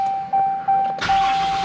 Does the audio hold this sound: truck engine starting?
yes